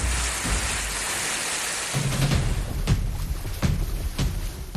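Heavy rain driven by strong wind during Cyclone Tauktae in Ahmedabad, Gujarat, a dense steady roar with gusty swells and a few sharper close bursts of wind and water.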